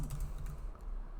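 Quick light keystrokes on a computer keyboard, a brief run of soft close clicks.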